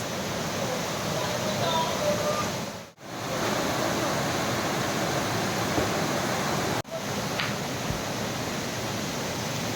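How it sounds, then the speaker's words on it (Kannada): Hosa Devata waterfall roars as a steady, loud, broadband wash of falling water close by, with two brief dropouts. "ಇದೇ ಫಾಲ್ಸು. ಎಂಥ ಫಾಲ್ಸು? ಹೊಸದೇವತಾ ಫಾಲ್ಸ್."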